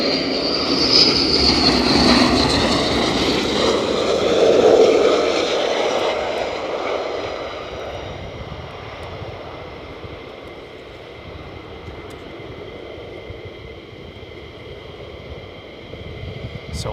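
A military jet lands at RAF Lakenheath, its loud broadband roar strongest at first, then fading to a steadier distant whine as it rolls out.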